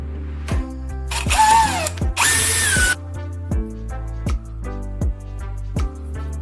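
A power drill whirs loudly in two bursts, widening a cable tie clamped in a vise, with repeated mechanical clicks and knocks continuing steadily afterward, close by.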